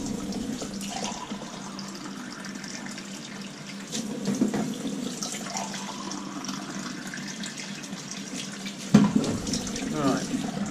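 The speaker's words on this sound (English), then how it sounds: "just filling each one with hot water" Hot water runs from a kitchen tap into jars while crab apple and chilli jelly is being made, a steady gushing stream with the pitch shifting as each vessel fills, plus a clink partway through.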